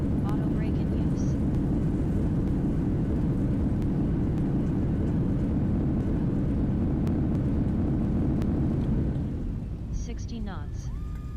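A Boeing 737 on landing in a flight simulator with the Zibo mod, its reverse thrust a loud, steady engine roar that fades near the end as cockpit callouts chime in.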